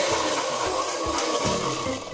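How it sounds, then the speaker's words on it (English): Blender whirring through a glycerin foaming face wash mix, a loud steady broadband motor drone with churning liquid texture that holds for the whole stretch, close up and uninterrupted. "put it into your blender. The next thing you want to do is make sure that you mix it up until it's nice and creamy"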